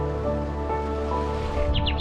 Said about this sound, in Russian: Снимаю звуки птиц. Слышите?